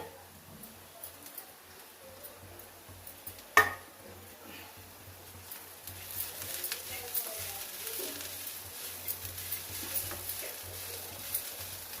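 Chowda kayalu vegetable curry with coriander cooking in a pan, a soft steady sizzle with occasional stirring scrapes and one sharp clack of a utensil, faint and close, with quiet talk now and then.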